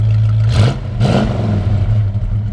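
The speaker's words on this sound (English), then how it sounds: "Go ahead and rev it up just a little bit." A 1969 Dodge Dart GT engine with dual exhaust idles nearby and revs up twice in quick bursts, then settles back to a steady rumble.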